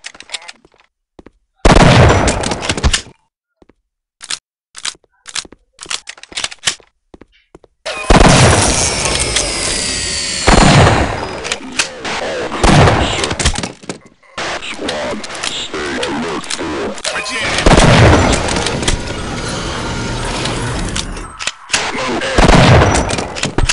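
Repeated shotgun blasts in the Half-Life: Black Death game, loud sharp bursts scattered in clusters with gaps of near silence, later dense overlapping gunfire and booming impacts.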